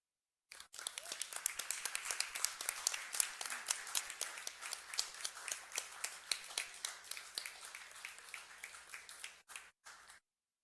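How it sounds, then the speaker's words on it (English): Steady applause from an audience at a Rochester city council meeting, honoring local literacy programs. It lasts about ten seconds at even strength and thins out before stopping abruptly. "Let's give them another round of applause real quick."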